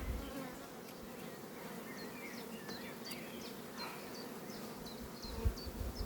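Honeybees buzz around an open beehive during an inspection of brood frames, a steady droning swarm with individual bees zipping close past, fairly quiet and continuous, no talking.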